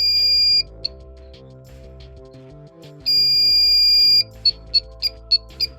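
A high-pitched parking sensor buzzer on an Alfa Romeo Giulietta sounds in long steady tones during a test, then chirps in a quick series of short, evenly spaced beeps.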